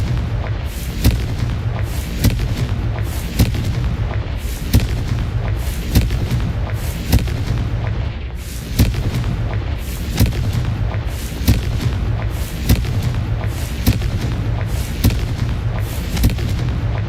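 Confringo fire spells in the Hogwarts Legacy video game fire off in a rapid, even series of sharp blasts, roughly one per second, each a loud punchy burst over a constant background rumble.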